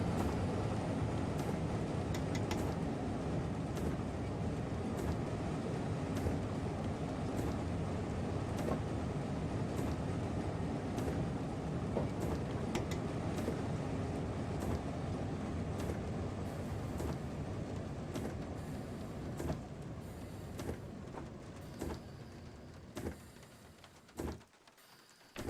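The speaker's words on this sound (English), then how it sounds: "This train has LZB capability, so it's capable of over 160 kilometers an hour." Interior ride noise of an LZB-capable train running between Cologne and Koblenz: a steady, loud rumble with regular rail-joint clicks that thins and fades near the end as it slows.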